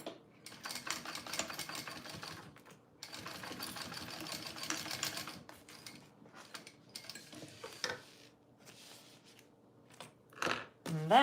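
A home sewing machine runs in bursts while basting the edge of a small bowler bag, stitching in rapid mechanical rattles that stop and start, with quiet pauses and some handling noise between.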